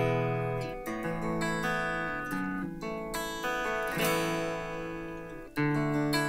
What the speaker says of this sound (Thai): อันนี้เป็นเสียงเริ่มจากเสียงคลีน